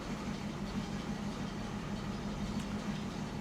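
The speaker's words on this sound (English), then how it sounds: "Hearing that engine run again." A 1967 Ford Mustang with a straight-six engine and Holley Sniper EFI idles steadily, a low even rumble heard on its own at moderate distance.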